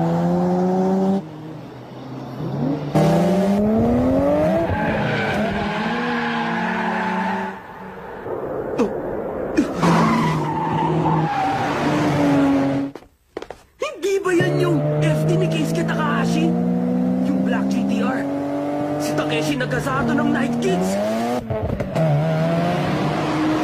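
Anime race cars scream down a mountain road, engines revving high with rising and falling pitch sweeps as they accelerate and shift, with tire squeal and brief dips between passes; voices speak over parts of it.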